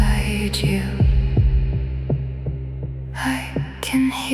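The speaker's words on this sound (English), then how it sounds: "I can hear your heartbeat call." A low, throbbing heartbeat sound effect pulses steadily in regular thuds beneath a sustained dark hum, with a brighter airy swell entering toward the end.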